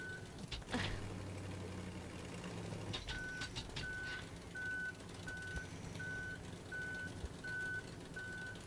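A truck in Human Fall Flat backs up with a reversing beeper sounding short, evenly spaced beeps. They start partway through and continue steadily over a low, quiet engine rumble.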